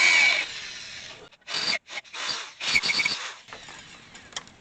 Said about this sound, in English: I'm going to take a 11/32 bit and just bore these out